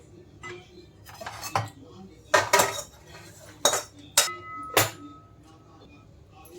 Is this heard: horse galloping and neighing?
no